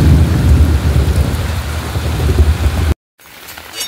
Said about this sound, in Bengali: বৃষ্টি এখনো পড়ছে মোটামুটি